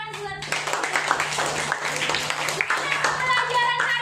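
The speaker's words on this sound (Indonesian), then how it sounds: "Tepuk tangan buat." Schoolchildren in an Indonesian classroom clap their hands together in a brisk burst of applause lasting a few seconds, with a teacher's voice and children speaking over it and a steady electrical hum underneath.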